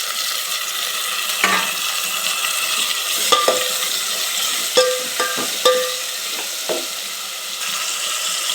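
Onions, green chillies and tomato frying in a pan, a continuous close sizzle with several sharp metallic clinks and scrapes of a spoon against the pan spaced through the middle and later part.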